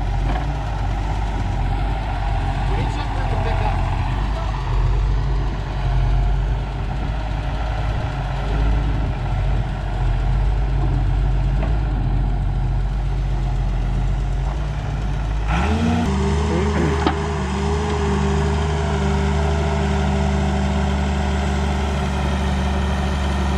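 An old Prentice loader works alongside wheel loaders, heavy diesel engines idling and droning steadily, then a deeper engine note shifts and revs partway through, fairly close and continuous, no talk.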